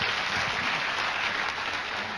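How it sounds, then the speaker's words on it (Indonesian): Audience applause in a hall during a motivational talk, continuous dense clapping at moderate level with no break, heard on its own. "Tepuk tangan untuk istri saya."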